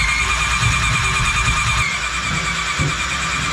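Honda CBR600 engine driving an amphibious jet boat's drive train in forward gear, a loud steady mechanical roar and whine close by with slight shifts in pitch and no talking.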